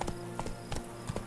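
Rhythmic clip-clop of horse hooves at a steady walking pace in The Witcher 3: Wild Hunt, quiet and close, with a faint background hum.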